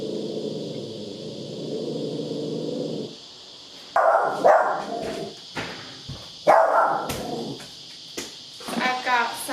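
A dog growls and gives short barks and yips in bursts indoors, close and fairly loud, after a steady low rumble of background noise.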